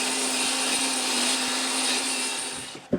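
A power tool cuts through a wooden board in a continuous high whine and rasp, loud and steady for almost three seconds before stopping abruptly with a short thump.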